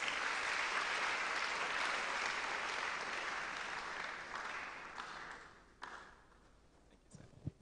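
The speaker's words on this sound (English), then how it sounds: "Please, a round of applause." Audience applause for the chairperson at a national public speaking competition grand finale, a broad sustained clapping that gradually fades out over several seconds, leaving a few scattered claps and taps near the end.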